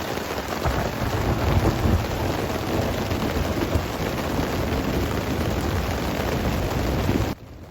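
Thunderstorm with heavy rain in the Lake District, a loud dense downpour with rumbling thunder rolling underneath, steady throughout before it cuts off near the end.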